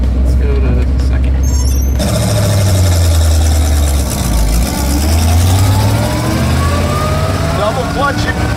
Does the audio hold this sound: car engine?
yes